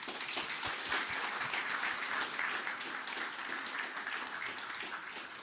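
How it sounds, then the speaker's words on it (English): Sustained applause fills a hall at a foreign and security policy yearbook presentation in Latvia, with a dense, even wash of clapping from a sizable audience that holds steady throughout. "Minister Krišjānis Kariņš, a round of applause, please."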